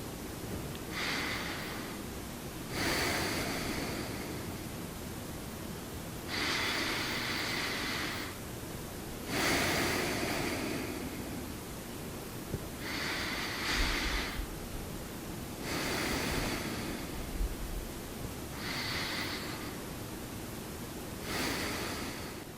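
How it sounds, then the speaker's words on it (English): Long, slow, deep breaths during a seated tai chi session, about eight evenly spaced airy inhale and exhale swells, close and soft, with quiet pauses between them. "Long, slow, deep breaths."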